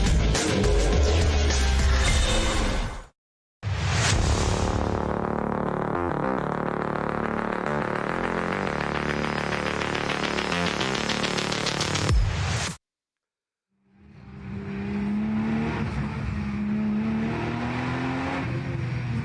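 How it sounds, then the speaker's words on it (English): Race cars on the green flag lap of an NLS endurance race at the Nürburgring, engines droning loud and close as cars pass, cut by two short gaps, with a rising roar of another car approaching at the end. "Cars still going round on their green flag lap."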